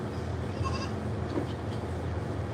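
Goats on a farm on a morning: a few short bleats rise faintly over steady low background noise, with no talk.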